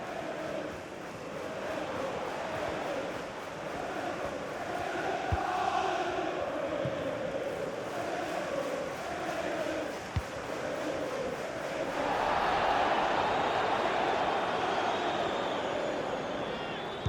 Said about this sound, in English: just listen to the Liverpool fans. The crowd very much behind them right now